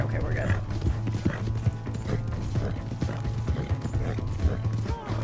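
Horse hooves clip-clop steadily in Red Dead Redemption 2, a close, continuous rhythmic trot with faint mechanical clicks mixed in, under a low game soundtrack hum and no speech.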